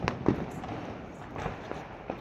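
Firecrackers bursting during Diwali night, several sharp pops at irregular intervals, one louder burst near the start and fainter cracks later, heard at a moderate distance.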